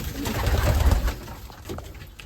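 Racing pigeons coo softly in a loft, a low murmuring burst near at hand that fades after about a second, with faint rustling behind.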